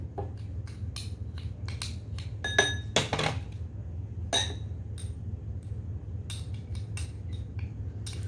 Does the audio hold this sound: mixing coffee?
yes